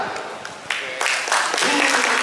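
Audience applause swells at a comedy roast event held in the Indonesian parliament, rising in bursts and growing louder toward the end, with voices mixed in.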